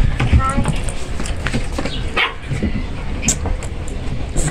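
Malinois puppies bark and yip in short, scattered bursts close by, mixed with rustling and movement while people talk over them.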